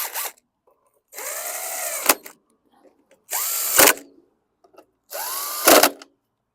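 DeWalt power drill running on a 2014 Murray push mower, three loud bursts of whirring with rising pitch, each ending in a sharp clunk, separated by short silences.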